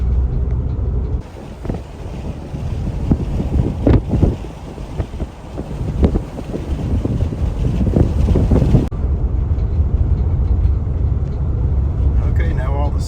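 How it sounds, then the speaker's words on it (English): Strong wind at Hatteras National Seashore on the Outer Banks buffets the microphone with loud, gusty roaring rumble that stays heavy throughout, while a voice talks over it for part of the time. "It's really windy today."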